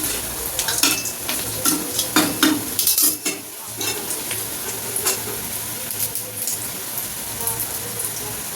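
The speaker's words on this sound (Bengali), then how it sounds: "বড়া ভাজা হচ্ছে, বড়াগুলো দেখুন লাল লাল করে ভাজা হবে" Drumstick flower fritters sizzle and crackle in hot oil, a steady close frying hiss with bursts of spattering pops and occasional stirring clinks, no voices.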